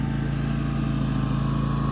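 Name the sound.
Grasshopper 226V mower running while mowing grass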